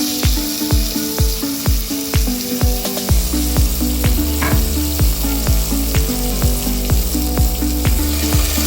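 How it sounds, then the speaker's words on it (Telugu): Spices, chopped coriander and onions fry in a pan with a continuous close sizzle, punctuated by regular rhythmic knocks as the mixture is stirred. "కాస్త 5 minutes వరకు ఇది కాస్త మనం వేగనివ్వాలి"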